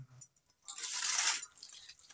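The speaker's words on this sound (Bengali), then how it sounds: "জল দিয়ে দেবো" Water pours into a wok set on the stove for cooking colocasia greens, a short soft splashing rush lasting under a second, heard alone and fairly faint.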